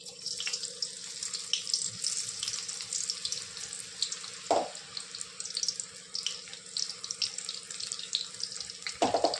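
Soybean manchurian balls fry in hot oil in a home kitchen, a steady close sizzling hiss with a few sharp pops and crackles breaking through.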